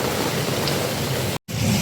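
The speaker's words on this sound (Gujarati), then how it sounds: "હવે વરસાદ આવી ગયો વધારે" Heavy rain in Katargam, Surat, a dense even wash of noise with a faint low rumble, broken by a brief gap of silence near the end before resuming.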